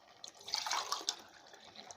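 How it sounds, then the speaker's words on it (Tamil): Water is poured from a tumbler into a pot of seasoned vegetables for sweet corn veg biryani, a brief close splashing trickle that swells and then fades. "இன்னும் ஒரு 1/2 டம்ளர் ஊற்றலாங்க."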